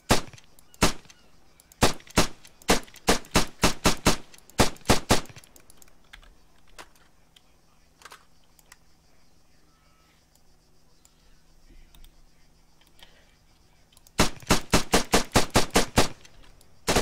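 Gunshots in the Arma 3 video game, several quick bursts of sharp cracks fired in rapid succession near the start, a long quiet gap, then another volley of rapid shots near the end.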